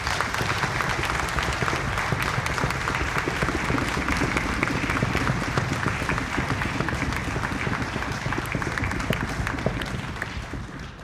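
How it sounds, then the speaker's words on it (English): A concert audience applauds graduating seniors at an orchestra's senior sendoff concert: steady, dense clapping from a full hall, loud and unbroken for the whole stretch, with no voices standing out. "Let's give our seniors a nice round of applause"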